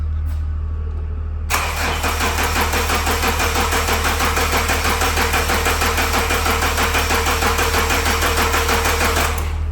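A smoking Mazda with a suspected oil-cap fault cranks after a quiet moment, the starter churning in a rapid, even rhythm for about eight seconds, loud and close, without the engine catching.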